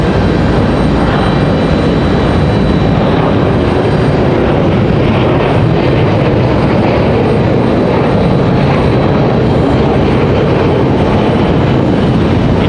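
A United airliner goes around at Raleigh-Durham International Airport, its engines a loud, steady, broadband roar that holds for the whole stretch with no talking over it.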